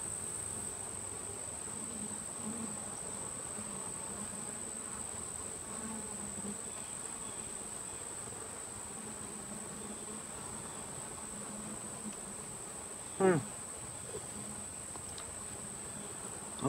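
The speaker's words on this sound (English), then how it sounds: "bees appear to be busy doing something" Honey bees hum steadily around an open hive during an inspection of a weak colony crawling with hive beetles, a soft continuous insect drone with one brief louder knock near the end.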